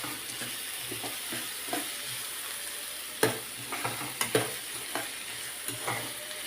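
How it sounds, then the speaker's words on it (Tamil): Tomatoes sauté with onions in a pan under a low, steady sizzle, with sharp spatula clicks and scrapes clustered in the second half, and no voices. "அடுத்தது தக்காளியை போட்டு வதக்கிக்கலாம்."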